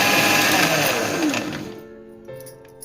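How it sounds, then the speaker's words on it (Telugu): A mixer grinder whirs loudly as it grinds garlic, onion, ginger and coriander seeds, holding a strong steady motor roar for nearly two seconds before winding down and fading to a quiet hum. "ఈ 3 వేసుకొని మిక్సీ వేసుకోవాలి"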